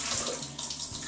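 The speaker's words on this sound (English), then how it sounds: "So I'm going to take some of my filtered water and basically put in about twice as much water as you're going to put in quinoa." Filtered water pours into a cooker holding quinoa, a brief steady splashing stream close by and unbroken by talk.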